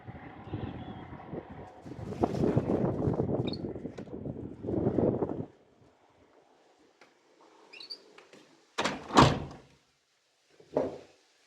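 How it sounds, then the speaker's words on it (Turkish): A greenhouse door, likely with plastic sheeting, slides and scrapes shut, with a long rustling drag followed by a few sharp knocks and thuds as it closes, close by with no talk. "Şu kapıyı da kapatmaması unutmuşsun."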